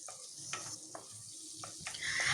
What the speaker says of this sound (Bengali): তারপর দিয়ে দিলাম কাঁচা লঙ্কা আর পেঁয়াজ কুচি। এরপর এগুলোকে ভালোভাবে ভেজে নেব।